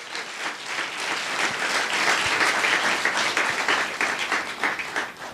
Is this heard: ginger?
no